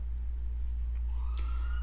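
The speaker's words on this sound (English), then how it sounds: "That's a siren, sorry if you can hear it." A siren wails faintly in the distance, its tone rising and holding over a steady low hum of background noise.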